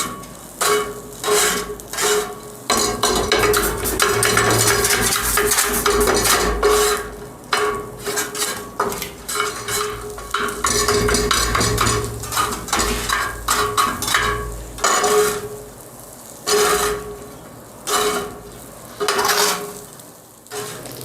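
Spoon scraping and clanking in a pan as minced meat for tawa qeema is stirred with chicken tikka masala, frying and sizzling steadily underneath; rhythmic metal strokes come close and loud throughout.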